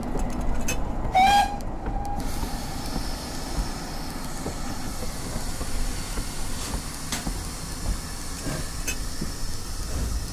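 A steam train on the South Devon Railway runs past with a continuous hissing, rumbling roar and a brief high whistle near the start, moderately close with no talk.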